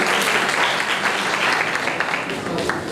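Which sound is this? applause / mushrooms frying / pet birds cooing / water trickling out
applause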